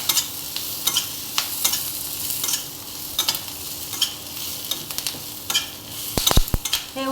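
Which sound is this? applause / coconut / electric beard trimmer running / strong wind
coconut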